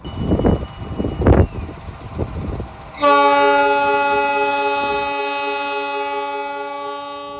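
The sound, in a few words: Purwojaya passenger train departing the station, horn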